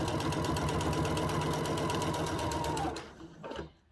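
A domestic sewing machine runs steadily at a fast, even stitching rhythm for about three seconds, then stops abruptly, leaving a brief faint mechanical settling.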